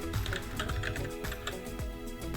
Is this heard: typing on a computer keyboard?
yes